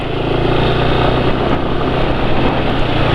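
Motorcycle engine running rough on Deltalube Multipurpose 757 SAE 40 oil, giving a steady, loud, coarse drone with a low harmonic hum that never lets up.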